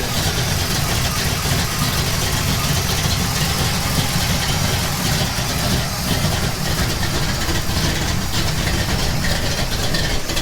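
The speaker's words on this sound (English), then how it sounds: "Got the whole engine shaking." A car engine idles steadily with a constant low rumble and rattling vibration that shakes the whole engine, continuous and fairly loud throughout with no break.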